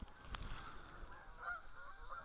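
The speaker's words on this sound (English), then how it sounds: "Must have been 50 or 60 geese." Geese honk over a lake, a flock of about fifteen heading out to feed at dusk, their calls faint and distant in a quiet outdoor setting.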